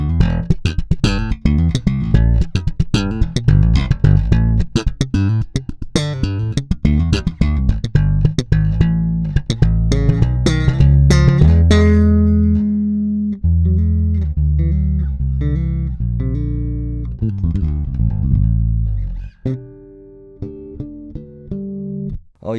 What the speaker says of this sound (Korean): 자, 슬랩도 한번 들어보면요.